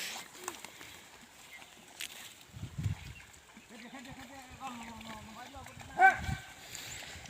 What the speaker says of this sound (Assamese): দেখিছে গৰুবিলাক পানীলৈ নমাই দিয়া হৈছে।